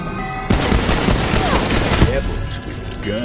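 Rapid bursts of gunfire from the player's weapon in Borderlands 3, loud and dense, with fast crackling shots over roughly two seconds before fading to lighter action sounds.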